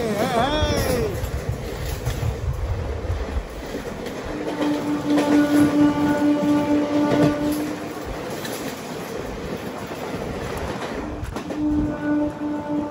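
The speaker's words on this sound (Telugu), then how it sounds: "వ్యాప్ 4 లోకోమోటివ్ ICF కోచెస్ తో అయితే రన్ అయింది ఆ ట్రైన్" A passenger train hauled by a WAP-4 electric locomotive with ICF coaches runs past on the Kakinada–Kotipalli line, a loud steady rumble and rattle of wheels on track with sustained tonal whines, filling the whole stretch with no talking.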